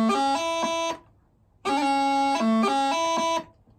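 Bagpipes play the opening bar of the jig Rory MacLeod twice, a continuous reedy melody with quick gracenote ornaments and a steady drone underneath, separated by a short gap, close and without talking.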